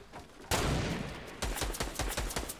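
Gunfire from the Fortnite video game, loud clustered bursts of rapid shots starting abruptly, followed by a run of sharp repeated single cracks in quick succession.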